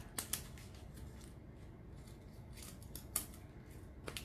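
Scissors snip away broken outer pieces in a quiet room: a couple of quick close cuts at the start, another crisp snip near the middle and a last one at the end, with no talking.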